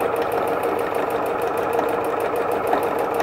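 A sewing machine stitches fabric for the pocket of a Civil War-style housewife sewing kit, giving a fast, even, mechanical chatter heard up close and uninterrupted, with no talking.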